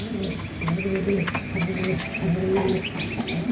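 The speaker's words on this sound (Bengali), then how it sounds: "কবুতর" Pigeons coo repeatedly at close range in a home coop kept alongside chickens and quail, soft throaty rolling calls overlapping in a steady rhythm, with faint chirps and light clatter around them.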